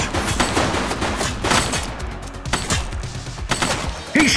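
Rapid gunshots ring out in the police game The Precinct, loud, close sharp cracks in quick succession with brief pauses between bursts.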